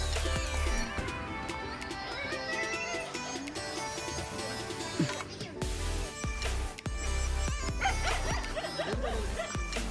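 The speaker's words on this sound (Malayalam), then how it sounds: "കൊറേ പട്ടിയുണ്ടല്ലേ ഇവിടെ." Several dogs bark in short, scattered yelps amid a busy outdoor jumble of other animal calls and background noise in a village near Pollachi.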